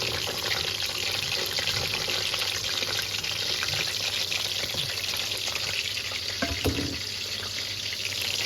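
Chicken for Balochi chicken tikka sizzles and browns in a pan, a steady loud hiss of frying that fills the whole stretch, with an occasional clink partway through.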